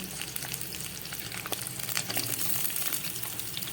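Chopped vegetables for a pui shak curry, including potato, beans, pumpkin, brinjal and green chillies, fry in a pan with a steady soft sizzle and hiss, close but fairly quiet, with no voices.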